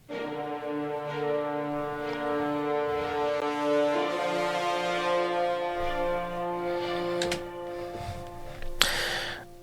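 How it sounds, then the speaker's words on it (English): Epic orchestral short string notes in a cinematic style sound loud and sustained, with staccato accents under layered harmonic chords. A bright burst comes near the end. "these epic string shorts"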